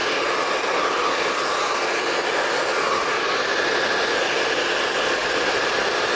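A hair dryer blows steadily while styling medium-length hair over a rotating round brush, a continuous loud broadband whoosh with no breaks.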